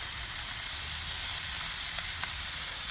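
Hamburgers, including onion-wrapped Dutchman and Jucy Lucy patties, sizzle on a hot grill in a loud, steady, close crackling hiss that runs unbroken with no voices.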